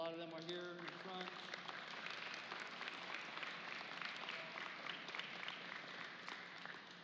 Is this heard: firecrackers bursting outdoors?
no